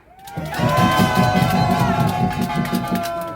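A rally crowd of patriotic protesters roars and shouts together outside a political party headquarters. The chorus of voices swells quickly and holds as a loud, sustained cheer with a pulsing, chant-like rhythm.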